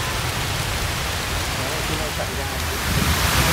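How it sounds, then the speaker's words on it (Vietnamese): A heavy downpour at the Thang Long Imperial Citadel archaeological site in Hanoi, heard while sheltering under a big tree, makes a constant loud hiss and roar of rain that swells slightly near the end. "Đây là đang mưa rất là to."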